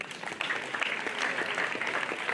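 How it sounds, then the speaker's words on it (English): Steady applause from a school debate competition audience, many hands clapping continuously at moderate volume without a break. "I would request every one of us to clap for them"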